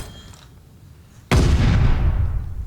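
Gunfire in the video game Call of Duty: Vanguard: after a quiet stretch, a sudden loud blast erupts and rolls on as a heavy, sustained barrage of booming fire that slowly fades.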